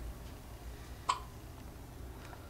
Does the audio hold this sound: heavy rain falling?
no